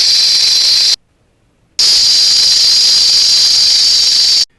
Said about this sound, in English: you're correct if you guessed that was the sound of a rattlesnake